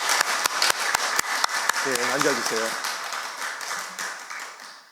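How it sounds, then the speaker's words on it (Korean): A church congregation claps in congratulation for a newborn, a loose burst of applause and sharp hand claps, followed by a short spoken line over the fading claps. "우리 기쁨으로 축하와 축복의 박수로 함께 공유하겠습니다."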